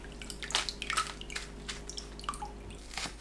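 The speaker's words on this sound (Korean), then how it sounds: "5분 후 양파를 체에 받쳐 물기 뺍니다." Water drips and trickles out of soaked, thinly sliced onions resting in a sieve, heard as quiet, scattered drips and small splashes with no talking.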